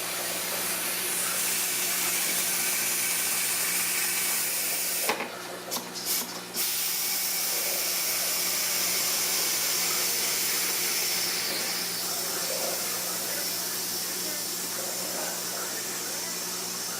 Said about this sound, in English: right now we're letting the pressure out